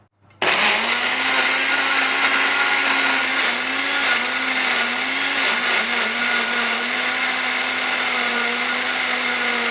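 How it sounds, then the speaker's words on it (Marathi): A kitchen mixer grinder purees boiled potato into paste without water, starting abruptly and then holding a loud, continuous motor whine with a slightly wavering pitch until the end. "आता आपण हा बटाटा जराही पाण्याचा वापर न करता मिक्सरला फिरवून घेणार आहोत"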